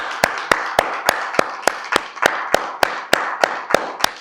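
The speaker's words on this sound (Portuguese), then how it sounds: "Vamos saudar o nosso Deus com uma linda salva de palmas" Sharp, evenly spaced claps about every quarter second, loud and close, from a church congregation applauding together in a steady rhythm.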